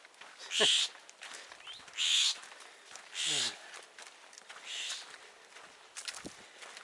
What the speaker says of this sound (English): Blue jays are pretty, but they are some mean birds when it comes to other birds.